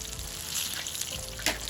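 Food frying in a frying pan over a strong flame, a broad steady sizzle with stirring and scraping, one sharper burst near the end, no voices.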